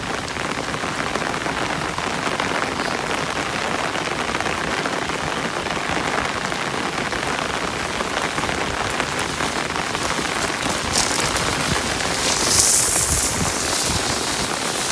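Heavy storm rain pours steadily and loudly onto surfaces nearby, a dense unbroken hiss lasting throughout, with a slightly stronger gust of downpour near the end.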